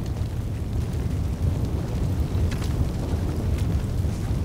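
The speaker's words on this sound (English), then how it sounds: "How am I supposed to do this with the fire freaking going everywhere?" Fire in a video game roars continuously as a dense, loud, rumbling wash with faint crackling bursts, steady throughout with no talk.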